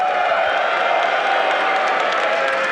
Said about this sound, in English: If you think the Reese Rhinos have got this next fight, give me a cheer.